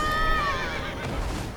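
A horse in Elden Ring lets out a loud, close whinny that wavers and falls over about a second, then fades into a soft background rumble.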